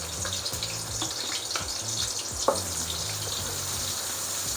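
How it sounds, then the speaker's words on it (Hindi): Coarsely cut onions dropped into about three-quarters of a cup of hot oil while cooking beef trotters (paya), giving a bright, continuous sizzle and crackle with a few clattering knocks, close and fairly loud. "ऑयल गर्म हो चुका है, प्याज डाल देती हूँ।"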